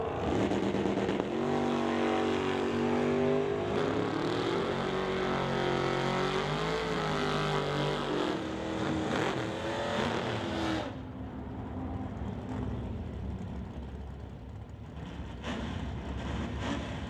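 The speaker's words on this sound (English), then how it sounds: "The TK Performance GT 500 Mustang out-dragging Chris Held up at the quarter mile." At an NHRA divisional drag race at Mission Raceway, a 2020 Ford GT500 Mustang and a Chevy roar off the line in a long rising engine howl that climbs and then drops away, loud and sustained with no talking.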